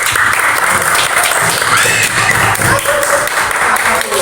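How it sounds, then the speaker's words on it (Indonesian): Applause from a school class after a student's question, steady dense clapping filling the room, with a student's voice speaking over it. "Beri tepuk tangan dulu, ya."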